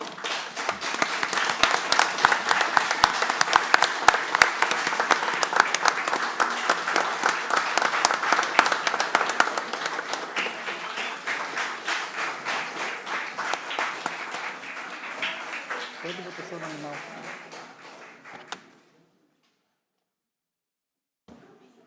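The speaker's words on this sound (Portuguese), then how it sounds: "se todos aqui presentes, batessem uma salva de palmas para esse ato heróico que você fez" Council members in a legislative session chamber burst into sustained, dense applause that runs loud for about fifteen seconds, thins gradually, and stops abruptly into silence near the end.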